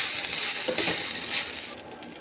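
Flattened rice pulihora being stirred with salt in a pan, a steady scraping and rustling texture with faint sizzle running throughout, close and continuous.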